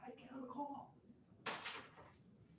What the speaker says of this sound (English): I got to close my door.